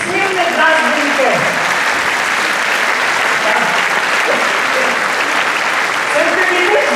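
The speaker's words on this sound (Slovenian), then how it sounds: "hvala lepa za vaš aplavz, za te izjemne glasbenike" Audience applause for big band jazz musicians at a concert, a dense, steady wash of many hands clapping, full and continuous, with faint voices underneath.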